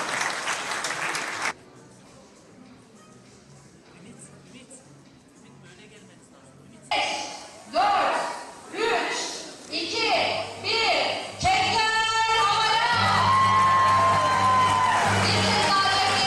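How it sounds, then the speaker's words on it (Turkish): Audience at a university graduation ceremony in Sivas applauding: broadband clapping opens briefly, fades under quieter room noise, then returns with bursts of cheering and whoops building into sustained loud applause with voices mixed in. "Bir alkışlar."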